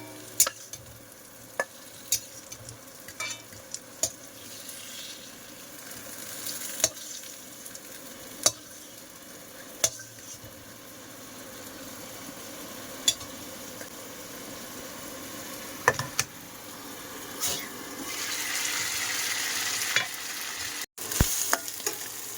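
Meat already cooked down with spices fries in a pan, keeping up a continuous sizzle broken by scraping and clacking stirring strokes, with the sizzle louder and brighter toward the end.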